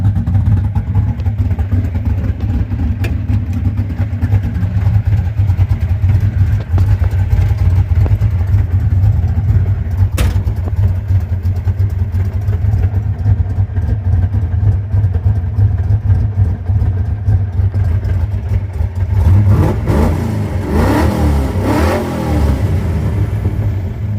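A car fitted with a cheap eBay muffler idles with a loud, steady, low exhaust drone, then revs several times near the end with rising and falling engine pitch.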